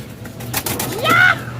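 Homing pigeons in a loft coo in a short rising call near the end, over soft rustling and a low steady background hum.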